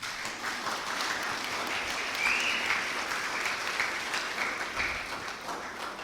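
Applause at a church wedding blessing ceremony, with a crowd clapping steadily and moderately loud for several seconds and a few faint cheers or voices over it.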